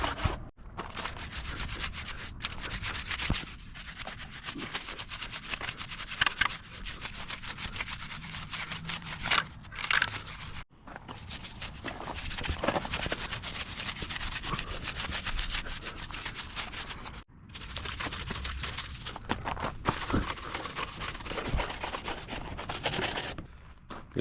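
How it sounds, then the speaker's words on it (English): A brush scrubs Dawn dish soap into a dirty dirt bike, a steady close-up rubbing and scraping that runs in long strokes with a few brief pauses and no talking. "we just want to scrub that Dawn dish soap in, break up that dirt"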